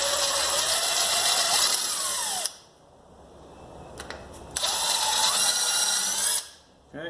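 Power drill countersinking a hole in wood for an arrow dip station, two loud close whining bursts of a few seconds each separated by a quiet pause, no speech.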